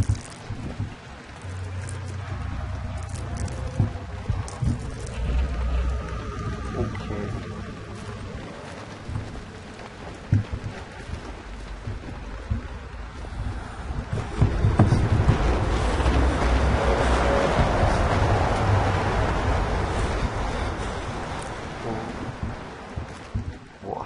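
Wind howls in Amnesia: The Dark Descent, a dark, low rushing ambience that swells noticeably louder and gustier about midway and stays strong.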